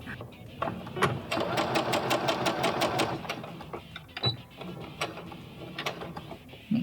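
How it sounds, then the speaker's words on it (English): A sewing machine stitches ripped denim jeans into a skirt, a rapid mechanical whirring run with ticking needle strikes that starts and stops, close by, while a voice talks over parts of it. "sure to backstitch at the beginning a few stitches."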